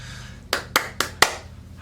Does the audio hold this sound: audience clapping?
yes